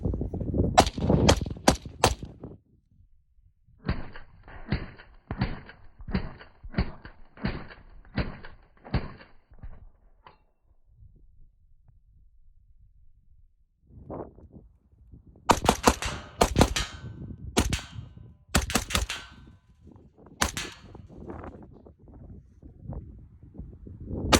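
Rifle shots crack out in quick bursts: a few sharp reports, a rapid string of evenly spaced shots, then a louder cluster of fire after a quiet pause. Each bang is close and loud, with no talk.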